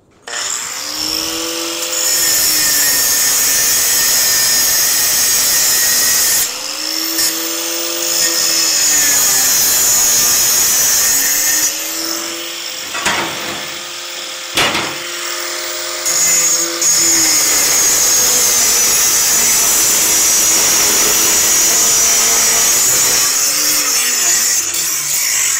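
Power tool cutting steel on a dune buggy rail, a loud close high-pitched grinding whine that runs almost continuously, with pitch dips as the blade bites and several brief pauses.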